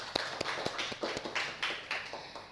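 Classroom applause during a school microteaching lesson, a short burst of scattered hand claps from a group of students, fairly faint and uneven, with no talk over it.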